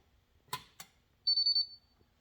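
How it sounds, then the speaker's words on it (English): A Minn Kota Ultrex trolling motor foot pedal gives one short, clear electronic beep at power-up, following two faint clicks in an otherwise quiet space. "And did you hear that beep? Okay, that means it's powered up."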